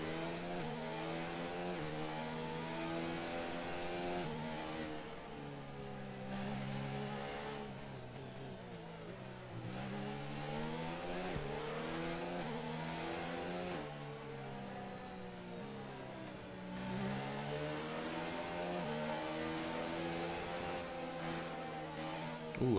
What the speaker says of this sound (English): Let's go on board with the Toro Rosso driver as he warms up his tires